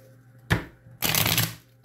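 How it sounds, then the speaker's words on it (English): Two quick bursts of playing cards being riffled, a short one followed by a longer, louder shuffle, close by and with no talking. "Let me shuffle these."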